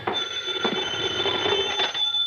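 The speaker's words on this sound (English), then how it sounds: "As I walked in the door, the phone was ringing." A telephone rings in an old-time radio private-eye drama, a bright, steady electronic bell tone filling the short moment at moderate volume with no talk over it.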